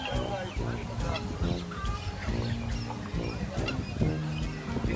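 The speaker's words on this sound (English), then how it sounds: "These are all chickens." Poultry calls at a busy Friday bird and animal market in Sharjah, UAE, with chickens among the birds. Dense overlapping clucks and honking cries sound close, over crowd murmur and voices.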